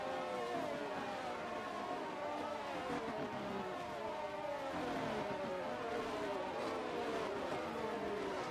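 Race cars idling and revving on the starting grid in the F1 22 video game at the Mexico circuit, several engines whining and sweeping in pitch, continuous and fairly close.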